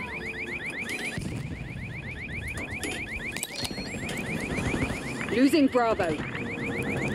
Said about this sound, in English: Dude, what is that beeping? I'm so tired of that freaking beeping.